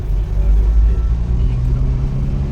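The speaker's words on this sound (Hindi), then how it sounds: "इंजन का साउंड वगैरह सही है" A Tata Safari Storme engine idles steadily with a low, constant rumble, close and fairly loud, with no talking over it.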